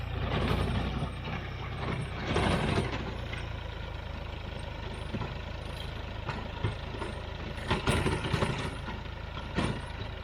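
Garden tiller engine chugs steadily while churning thick, long-unworked soil, loud and close, with a few sharper mechanical clatters and surges along the way.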